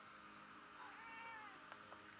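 A kitten meows in short, rising and falling cries at moderate loudness, with no one speaking over it.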